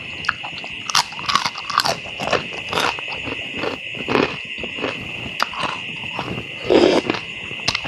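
Someone chews a crunchy, spicy Thai jellyfish salad pounded with lotus stems, making repeated close crunches and bites over a steady high-pitched insect or cricket drone.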